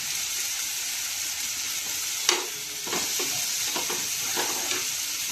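Tomatoes with salt sizzle steadily in a pan while a spoon stirs them, a few scraping knocks over the constant frying hiss, close and without talk.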